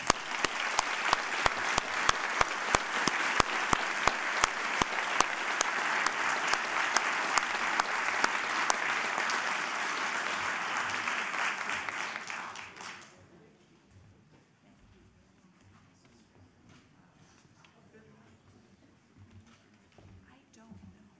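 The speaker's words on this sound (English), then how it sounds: "Please join me in giving them another round of applause." Audience applause for panelists at a university event announcing a manufacturing institute, steady loud clapping with sharp individual claps for about thirteen seconds, then fading to quiet room noise with faint movement.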